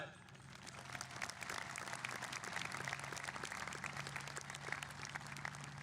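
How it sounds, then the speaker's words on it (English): A commencement ceremony crowd applauds the graduates' parents: dense, steady clapping fills the hall for about six seconds, with a low hum and some crowd voices mixed in. "Can we get one more round of applause for the parents here tonight?"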